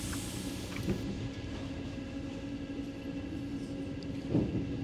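A Paris metro train rolls along with a steady low rumble and faint mechanical whine, with a couple of soft clunks from the carriage and no talking.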